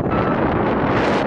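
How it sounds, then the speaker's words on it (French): Strong wind at a beach near Lisbon buffets the microphone in a loud, continuous roar with gusty swells, no voices over it. "il y a énormément de vent."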